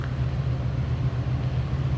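A 1979 Pontiac Bonneville sedan idles steadily from behind the vehicle through a newer exhaust system, a continuous low rumble with even exhaust drone and no talking.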